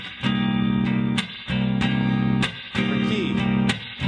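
Guitar strumming minor seventh chords in C with all downstrokes: sustained chords ring loud and close, each held about a second, with brief muted gaps between changes.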